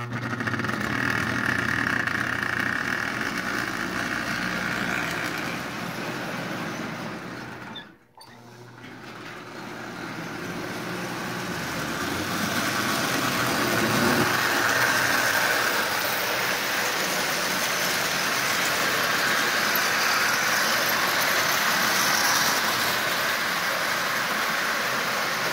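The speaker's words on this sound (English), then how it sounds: "So as you see, this engine is running really well." A Marx 898 toy train engine runs steadily around its track, a continuous whirring motor hum with rail clatter that briefly cuts out and then resumes, close and loud with no talking.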